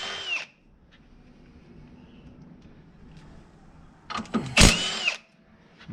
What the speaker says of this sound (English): Now I'm going to undo these 3 16mm.